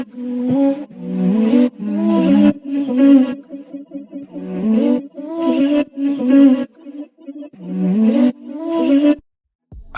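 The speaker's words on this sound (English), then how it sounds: "The next sound I used was this vocal loop." Sampled vocal phrases loop for a dark synth track, sustained sung tones with a growling, processed character repeating in bursts, loud and close with brief gaps between phrases.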